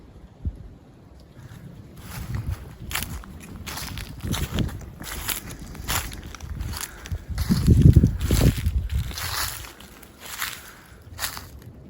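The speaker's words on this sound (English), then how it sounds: "I'm hearing footsteps." Slow crunching footsteps through a meadow at night, spread as irregular steps of varying loudness amid wind noise on the microphone, growing heavier near the middle before easing off.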